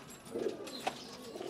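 Pigeons coo softly in a short burst, low and fairly faint, with a brief sharper bird note in the middle and no voices.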